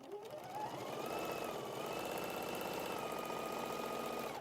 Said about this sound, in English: and then I can sew down one way.